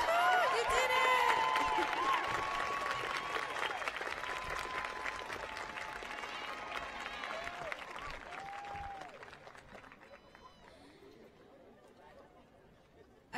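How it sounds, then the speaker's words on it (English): A crowd at a college transfer achievement celebration applauds warmly with cheers and chatter mixed in, the clapping gradually fading over several seconds. "Give yourselves a round of applause."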